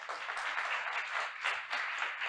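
Audience applause at a Portuguese-language telehealth lecture as a professor and physician is welcomed to speak, a steady, dense wash of clapping that holds evenly throughout.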